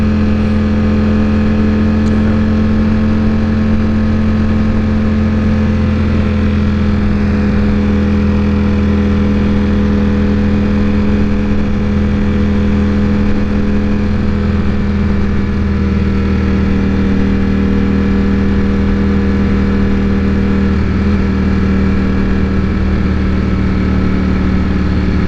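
Ducati Panigale V4S sportbike cruising on a Pacific Northwest road, its engine droning steadily and loudly throughout with a strong low hum and little change in pitch.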